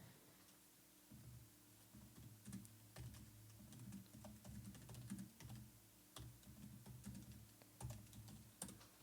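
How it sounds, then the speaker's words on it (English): Typing on a computer keyboard, close and fairly quiet, with irregular bursts of key clicks and short pauses between runs of keystrokes. "You're gonna hear me typing."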